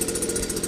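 A Stihl BG 86C or Husqvarna 525BX handheld leaf blower revs up, making a loud, steady engine roar with a rushing airflow hiss that holds constant through a very short burst.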